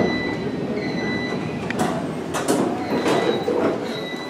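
A Montgomery Kone hydraulic elevator's single door slides open at a New Jersey mall with a low rumble and a brief squeal, steady whine and clattering underneath, close by.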